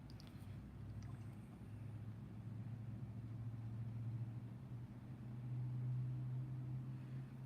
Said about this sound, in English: Hopefully that truck is not too loud.